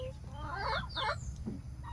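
Several backyard-farm hens cluck in bursts of rising, bright calls over a steady low rumble, with a brief human sound near the end.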